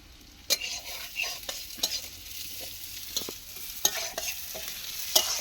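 Mung dal being fried in a pan, stirred with a spoon: repeated sharp scrapes and clicks over a low, soft sizzle, close up with no voices.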